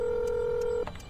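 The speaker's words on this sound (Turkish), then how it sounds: "Hemen acili ara." A phone keypad in an accident video game sends a single long dialing tone while calling emergency services, then cuts off into a couple of short beeps, close and clear with no talk.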